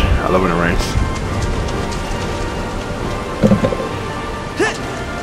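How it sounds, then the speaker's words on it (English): Steady heavy rain with low rumbles of thunder underneath, and a few brief voices breaking through the downpour. "Rain is fresh. I love when it rains."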